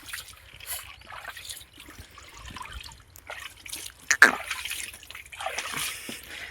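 Water poured over a pregnant buffalo's head: intermittent close trickles and splashes of water falling and dripping, with one sharper splash in the middle.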